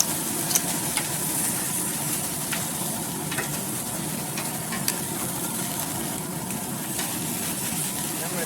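Steak and seafood sizzle hard on a hot Camp Chef Woodwind pellet grill as they are flipped, a constant loud crackling hiss punctuated by sharp pops and clicks.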